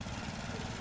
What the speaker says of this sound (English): I'm just mowing the lawn.